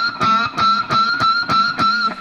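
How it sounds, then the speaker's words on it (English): An electric guitar with distortion plays pinch harmonics, giving a string of about six sharp, high-pitched squeals in a steady rhythm. Each squeals loudly and sustains briefly before the next pick attack, with no talking. "it creates a squeal, which is called a pinch harmonic"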